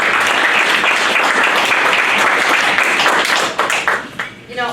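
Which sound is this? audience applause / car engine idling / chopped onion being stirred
audience applause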